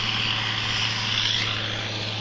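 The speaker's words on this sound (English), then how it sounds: "We got the tractor running, plowing the fields." A tractor engine drones steadily while plowing a field, a constant low hum heard from a distance and alone with no voices.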